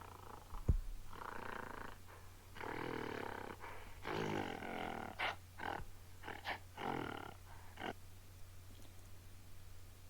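A gorilla sound effect of deep, rumbling grunts and growling huffs comes in a string of uneven bursts, loud and close against a quiet background.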